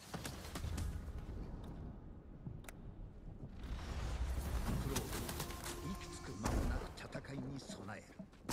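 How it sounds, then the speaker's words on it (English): Birds coo softly in the Ghost of Tsushima video game, mixed with ambient game noise, scattered sharp clicks and impacts, and faint voices. "we'll have birds"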